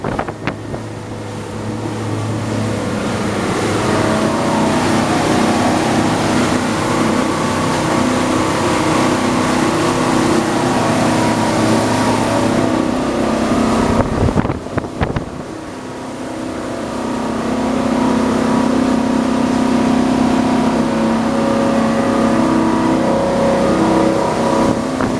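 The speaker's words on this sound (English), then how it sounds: "Boat runs absolutely beautifully." Steady drone of a 33-foot Grady-White motorboat engine cutting through water, with wind buffeting the microphone, a brief dip midway, then the motor pulling strongly again.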